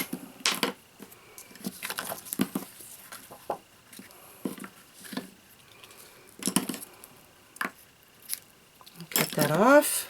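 A few sharp metallic snips of scissors cutting white satin ribbon among scattered rustling and handling noises, close by and fairly quiet, with no talking.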